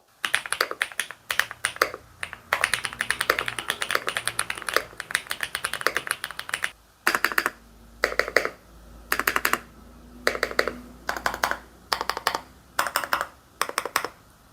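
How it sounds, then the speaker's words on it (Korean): Bursts of clacky typing on SPM PL87W and PL108W mechanical keyboards with Mongdol switches, dense runs of keystrokes at first, then short separated clusters of key presses with pauses between. "SPM의 PL87W 몽돌 비선 스위치가 탑재된 제품과 비교해서 들려드릴게요"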